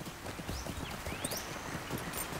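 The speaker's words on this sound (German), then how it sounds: "ich reite mal auf ein Pferd" Horse hooves clip-clopping at a steady trotting rhythm while riding in the Lord of the Rings Online video game, close and clear with a faint whinny-like tone passing over.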